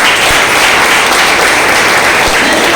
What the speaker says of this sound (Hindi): एक बार जोरदार ताली बजनी चाहिए।